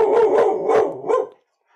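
A dog barks about four times in quick succession, close and loud indoors, each bark short and full, then silence.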